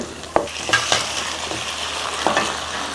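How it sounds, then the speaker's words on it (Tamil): Tomatoes sauté in a hot pan for paruppu urundai kuzhambu, a soft steady sizzle with a few close spoon stirs and scrapes against the pan. "தக்காளி போட்டுடலாம்."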